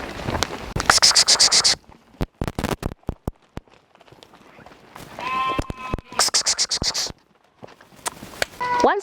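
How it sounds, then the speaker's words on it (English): Red Kalahari goats on a farm stepping into their pens, with bursts of bleating and scuffling hooves coming in clusters, broken by short quiet gaps and some wind. "all the goats know their pens, so they'll be stepping in their pens individually"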